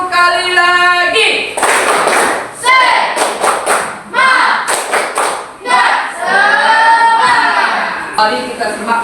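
Children in a primary-school classroom repeat a 'tepuk semangat' clapping chant, loud group voices interleaved with crisp rhythmic hand claps and thumps, close and energetic throughout.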